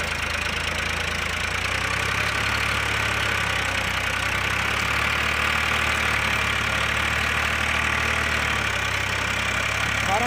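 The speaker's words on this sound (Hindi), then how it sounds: "फॉर्म 45 है, दो नंबर गियर में चल रहा है भाई, कैसे चल रहा है देख लो।" A Farmtrac 45 tractor pulling a field implement in second gear, its diesel engine giving a steady, loud, close drone with a constant low rumble and no talk.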